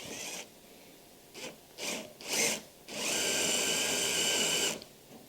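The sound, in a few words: drill bit boring into wood for leg vice joinery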